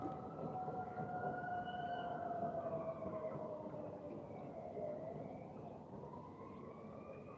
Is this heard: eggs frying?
no